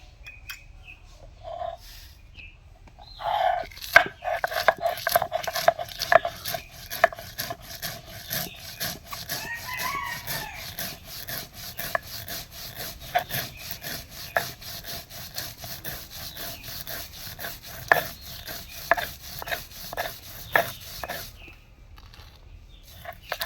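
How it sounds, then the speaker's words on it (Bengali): Mustard seeds and a pinch of salt ground by hand on a stone slab: steady, rhythmic rasping strokes, close and continuous for about twenty seconds, with brief pauses near the start and end. "তো এখন বেটে নেব হলো সরিষা, সামান্য একটু লবণ দিয়ে নেব।"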